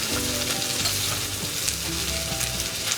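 Cod pan-searing in butter with crushed lemongrass and garlic, a loud, close, continuous sizzle and crackle with steady frying hiss and no voices.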